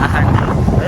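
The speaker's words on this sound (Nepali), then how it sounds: "यस्तो चिसो हावा चलिरहेको" A cold wind blows outdoors on a hillside road, rumbling against the microphone as a continuous low buffeting roar.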